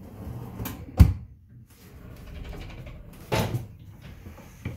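Custom-built full-extension drawers in a tiny house made from a tractor trailer, opening and closing with a firm thud, a quieter sliding rumble, then a second knock, close and fairly loud.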